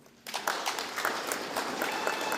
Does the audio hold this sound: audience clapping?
yes